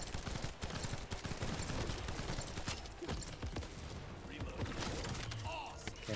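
Gunfire in The First Descendant, a looter-shooter game: rapid, steady bursts of shots and thuds run throughout at moderate loudness, mixed with busy in-game effects.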